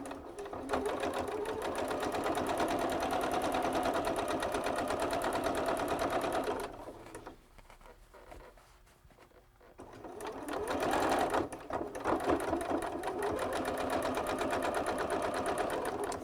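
A sewing machine stitches a hem along the edge of dress pants fabric, a steady close whirring hum that drops away for a few seconds mid-seam before resuming at full speed.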